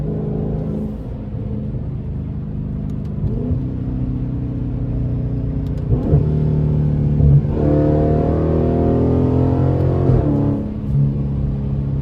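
A Dodge 392 Scat Pack V8 fitted with a loud aftermarket intake rumbles steadily from inside the car, rising in a few revving surges with deep booming tones and intake roar, continuous and loud with no talking.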